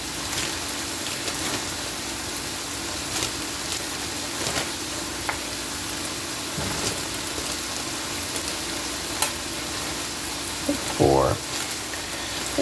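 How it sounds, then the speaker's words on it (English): Tortillas warming in a hot pan on a taco night, giving a steady, soft, close sizzle and crackle throughout, with a brief louder clatter near the end. "I decided to go warm these tortillas up."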